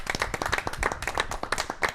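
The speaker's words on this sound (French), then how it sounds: "On peut s'applaudir?" A few studio hosts of an auto-moto television show clap briefly, quick sharp hand claps close to the microphone in an uneven flurry, with some voices mixed in.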